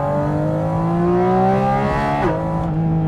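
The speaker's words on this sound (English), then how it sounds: "that flat six takes over." Porsche GT4 RS flat-six engine revving hard, its loud harmonic tone climbing steadily in pitch before a quick shift dip, close and dominant with no talk.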